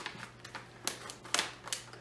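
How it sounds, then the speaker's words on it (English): A food storage bag with an oxygen absorber inside, holding freeze-dried elk sausage lasagna, is zipped shut in a quick run of close, crisp clicking bursts with short gaps between them. "Zip it shut and seal it up."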